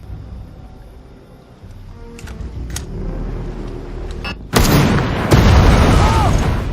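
Sniper gunfire from a lighthouse in an action film: a couple of faint cracks early, then two loud, sharp booming bursts close by over a rumbling background.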